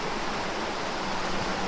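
River water flowing in Townsend, Tennessee, a dense steady hiss and rush of cold stream water, continuous, close and fairly loud with no voices.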